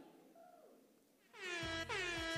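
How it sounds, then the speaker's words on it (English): A blaring air horn sound effect bursts in at a church gathering, two loud sustained blasts back to back after a quiet, low hum. "Need a little air horn action, okay?"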